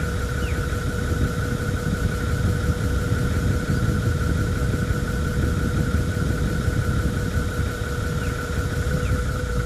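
A Land Cruiser 80 series idles with its air-conditioning compressor running, making a steady, close mechanical drone with a constant humming tone and no pauses.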